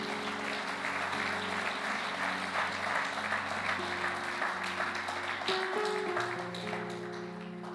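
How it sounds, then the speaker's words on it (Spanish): Sustained applause from a church congregation fills the room, dense and even throughout, with held organ or keyboard tones sounding underneath and shifting pitch toward the end. "¿Qué tal si damos un aplauso, Señor?"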